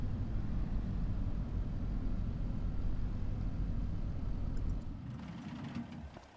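A new blue farm tractor's engine runs with a steady low rumble at close range, then cuts out and drops away near the end, leaving quieter shed ambience.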